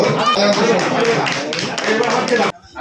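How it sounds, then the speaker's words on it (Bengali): A theatre festival audience claps loudly. The dense, sustained applause lasts a couple of seconds and then cuts off abruptly. "জোরে একটা হাততালি।"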